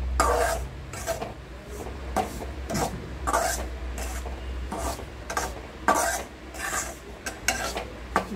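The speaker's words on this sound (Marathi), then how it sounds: "आता मी फटाफट भाजून घेते" Semolina being dry-roasted in a pan for karanji, stirred with a spoon in repeated short scraping and rasping strokes, fairly close and steady with no one talking.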